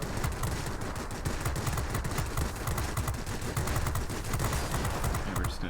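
Aircraft machine guns fire in a World of Warplanes dogfight involving a La-9 fighter, a continuous fast rattle of shots over a steady engine roar, loud and close, with no talk.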